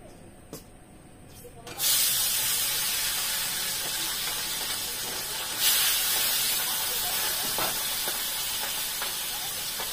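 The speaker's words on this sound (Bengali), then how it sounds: "তো তেল গরম হয়ে গেছে, মাছগুলো দিয়ে দিই।" Fish hit hot oil in a home kitchen pan, and a loud, steady sizzling hiss breaks out suddenly after a quiet start, then swells again partway through and keeps spitting continuously.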